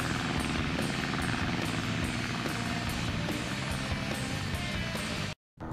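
Tails' repaired plane in Sonic Adventure DX flying through the Sky Chase stage, a loud, continuous propeller-engine drone with a regular rhythmic pulsing, steady throughout before cutting out abruptly near the end.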